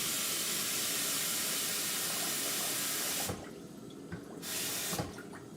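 Tap water pours into a cooking pot on the stove to cover the food inside, a loud steady rushing stream that stops abruptly, then a few drips and a brief trickle follow.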